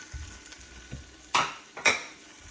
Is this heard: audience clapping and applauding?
no